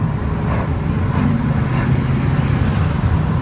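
A turbocharged truck engine at part throttle and low boost gives a steady, close, loud drone with an even rumble and no noticeable change in pitch.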